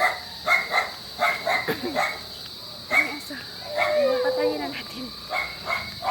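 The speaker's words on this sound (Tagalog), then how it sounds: "May aso, may aso." Several dogs bark in short bursts, with a whimpering yelp in the middle, while people talk nearby over a steady background hiss.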